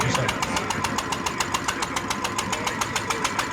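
A stationary gasoline engine driving a Forano threshing mill chugs with a fast, even pulsing beat, close and loud, running alone without talk.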